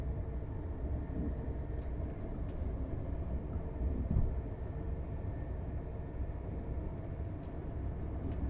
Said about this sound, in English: Driving in this Class 802 TransPennine Express unit.